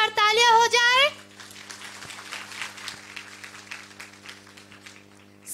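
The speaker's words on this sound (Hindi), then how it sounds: "बच्चों के लिए एक बार जोरदार तालियां हो जाए" Applause for the children at an annual day celebration: a voice speaks briefly, then a soft, scattered patter of clapping follows at a distance, fairly faint and steady.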